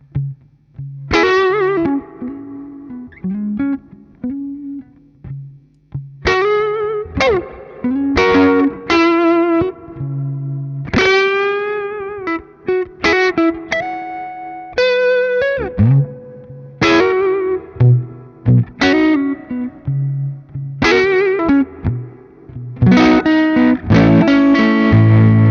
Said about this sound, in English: I'm just going to show you what the amp sounds like by itself.